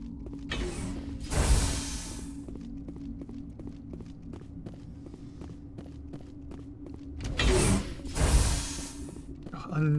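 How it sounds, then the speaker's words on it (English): Elevator machinery in the video game Mass Effect, with a steady low mechanical drone and repeated ticking clicks, joined by louder whooshing bursts near the start and again near the end. "Another elevator."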